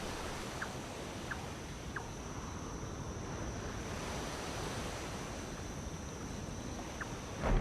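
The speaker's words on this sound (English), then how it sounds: "waves crashing against the rocks or the thunderstorms" Waves crashing in the pirate sailing game Skull and Bones, heard as a steady, fairly quiet wash of surf and sea noise with a little wind, continuous and unbroken with no voices.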